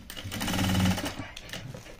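Sewing machine stitching a lehenga, a fast loud rattling run of stitches that builds and then stops, followed by quieter clicks and handling noises.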